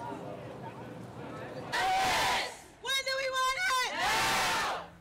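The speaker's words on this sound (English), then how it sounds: "Members of the VCU Hispanic student activist group Plumas led the crowd in protest chants" Protesters at a VCU campus rally chant in unison, led by the Hispanic student group Plumas, loud rhythmic shouted phrases from a crowd outdoors with bursts of cheering between them.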